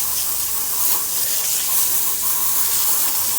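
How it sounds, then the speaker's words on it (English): A pressure sprayer rinses foam off a tire with a steady, loud, close hiss of water spray that holds constant throughout, with no talk. "I'll go grab the sprayer and we'll rinse it off."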